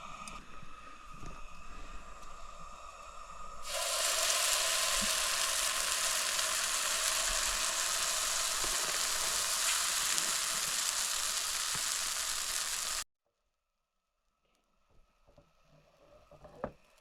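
Sourdough batter frying on a hot griddle, a loud steady sizzle that begins suddenly, holds for several seconds and then cuts off, leaving quiet handling noises.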